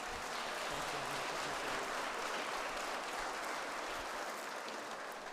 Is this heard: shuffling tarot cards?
no